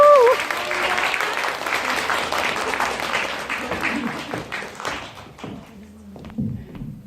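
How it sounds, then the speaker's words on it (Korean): An audience at a film library talk applauds to welcome director Frankie Chen, a sustained crowd clapping that swells early and thins out toward the end, with some thumps and a voice near the close. "박수로 프랭키첸 감독님을 맞이해보도록 하겠습니다"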